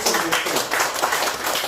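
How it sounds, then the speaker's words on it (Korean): An audience at a lecture gives a short burst of dense, close applause for the readers' editorial committee chair, with many hands clapping quickly and steadily. "편집 우리 독자 편집 위원장님께 박수 한번 해주시죠"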